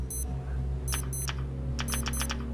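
Repeated electronic alarm beeps in the survival video game Stranded Deep, sounding in short bursts of two to four tones over a steady low game hum, with no talk.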